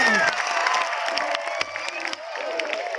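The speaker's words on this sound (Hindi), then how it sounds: "एक बार जोरदार तालियां।" A crowd claps and cheers steadily, with a few shouts rising above the sustained applause.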